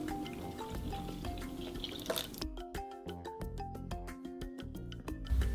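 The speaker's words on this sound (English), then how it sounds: "Add milk." Milk poured into a bowl while mixing crepe batter with eggs and sugar, a steady liquid stream with splashy, dripping pattering, close and fairly loud, with no talking.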